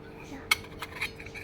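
A light metallic clink as a lid is set on a small pan in a toy kitchen, followed by a couple of softer taps, all quiet and close.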